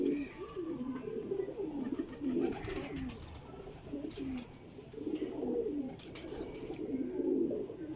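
Sialkoti black-faced pigeons give soft, rhythmic coos that repeat in short rolling phrases, fairly faint and close, with little else around them.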